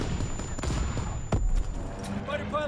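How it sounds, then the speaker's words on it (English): In Call of Duty WW2, a strike aircraft strafes the target with a dense burst of rapid gunfire and sharp impacts, loud and close, followed by a fading rumble. "Fighter pilot inbound. Strafing the target."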